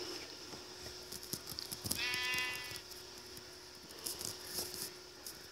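A sheep in the video game Minecraft lets out one clear, wavering bleat, close and distinct, with soft footsteps and small game clicks around it and no talking.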